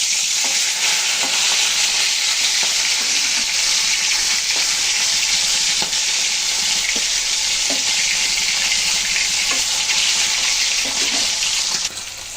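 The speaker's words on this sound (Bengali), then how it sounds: "সবগুলো মাছ নিয়ে নিয়েছি, সুন্দর করে ভেজে নেবো।" Shing fish, stinging catfish, frying in hot oil, a loud, close, unbroken sizzle with sharp spattering pops and a few clicks of stirring, steady throughout before easing off at the very end.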